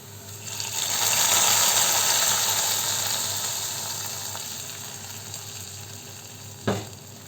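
Fried seasoning tempering poured into a Kerala mackerel and mango curry with ground coconut, giving a loud sustained sizzle that peaks early and slowly fades, ending in a brief sharp clatter.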